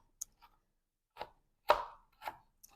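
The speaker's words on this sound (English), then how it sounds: "So I'm just going to finish chopping these up" A sharp knife chops carrots on a cutting board, giving five crisp, separate strikes at an uneven pace, close and clear with no talking.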